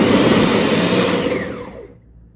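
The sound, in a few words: blender grinding fruit for Barbados fruit cake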